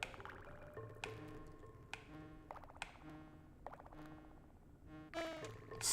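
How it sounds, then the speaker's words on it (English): Bee enemies die in the video game Donkey Kong Country, a string of bright, ringing electronic chirps and buzzes with sharp attacks over busy game music, ending in a loud high burst. "I love the sounds the bees make when they die."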